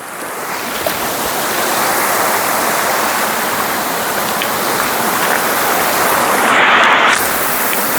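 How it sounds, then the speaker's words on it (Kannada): Chirekal Kat waterfall in the Uttara Kannada forest roars in a loud, steady wash of falling water, constant and close, with no voices over it. "ಸಕ್ಕತ್ತದೆ ಫಾಲ್ಸ್ ಮಾತ್ರ."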